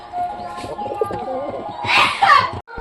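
Huma and Mukhshi pigeons kept together in a new coop coo softly in short bursts, mixed with children's voices and a brief louder flutter of noise near the end.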